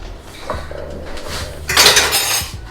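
Utensils clink and scrape against a bowl as ingredients are stirred and whisked together, with a sharper burst of rattling near the end, close and fairly loud with no talk.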